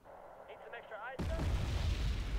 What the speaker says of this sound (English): Since I have a pretty sizable budget, I can start to use a lot more artillery.